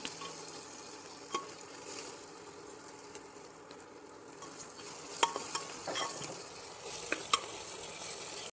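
Onions with green chili and curry leaves sautéing in a pan for a black chana and potato gravy: a steady close sizzle and frying hiss, with scattered sharp clicks of the stirring spoon against the pan.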